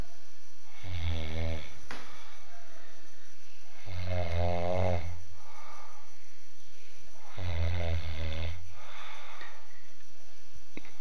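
A person snores loudly and close by, with three long rasping snores spaced a few seconds apart and quiet breathing in between.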